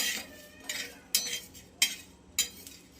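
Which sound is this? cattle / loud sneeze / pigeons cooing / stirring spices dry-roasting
stirring spices dry-roasting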